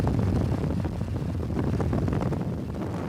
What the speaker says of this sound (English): a researcher is testing a new helmet in an acoustic wind tunnel